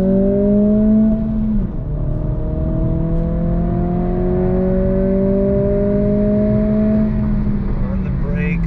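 A 2023 Acura Integra sport compact engine pulling in second gear near 4,000 RPM under throttle, giving a steady, droning hum with a slowly rising pitch after a brief dip, loud and close, with voices talking over it.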